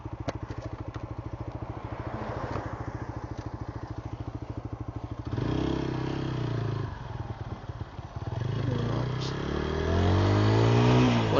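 A TVS Apache RTR 160 4V motorcycle accelerating toward top speed, its engine note rising steadily and loud and close, with a rhythmic pulsing drone that gives way to rushing wind and a climbing whine.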